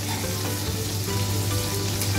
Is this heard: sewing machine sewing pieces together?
no